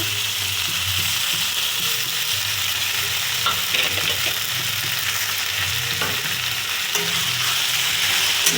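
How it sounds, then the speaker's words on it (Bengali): Chopped potato and eggplant fry in a pan for aloo begun bhorta, with a steady close sizzle throughout and occasional scrapes of stirring, no speech. "সব ভাজা হয়ে গেছে লাল লাল হয়ে এবারে দিচ্ছি আলু বেগুন কুচি"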